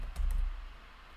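Keys tapped on a computer keyboard, a brief burst of two or three quick strokes close by, with a low hum beneath and no talking.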